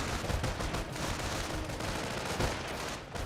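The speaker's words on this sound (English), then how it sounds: "Incoming enemy fire." Battle in the World War II strategy game Company of Heroes 1, with a steady, dense crackle of rifle and machine gun fire and occasional heavier shots, loud and unbroken for a few seconds.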